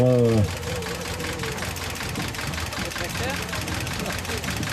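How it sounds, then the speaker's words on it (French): A tractor engine runs at a steady idle-like chug as the tractor slowly drives onto a flat-bottomed marsh boat in the Poitevin wetlands, a close, continuous mechanical rumble following a brief louder tone at the start. "le tracteur monte tranquillement sur le bateau."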